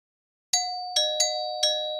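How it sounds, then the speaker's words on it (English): A doorbell chimes in four clear, ringing strikes after a short silence, each tone sustaining and overlapping the next, loud and close. "He went up to the door and rang the bell."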